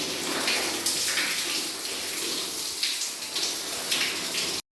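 Water running and splashing in a bathroom during a bath, a steady close rush with irregular louder splashes, cutting off abruptly at the end with no talk.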